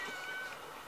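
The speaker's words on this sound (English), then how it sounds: "Who's meowing?" A kitten at a humane society shelter meows faintly, a thin cry over steady room noise.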